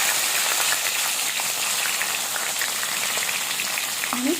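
Cumin, mustard seeds, curry leaves and green chili crackle and sizzle steadily in hot oil for upma, a loud, close, dense frying hiss with small pops throughout.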